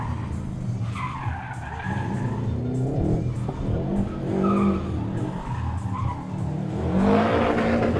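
A race car on the Alytus street race circuit in the SGC 4 class, repeatedly squealing its tires through corners as the engine revs rise and fall, loud and close throughout with no speech.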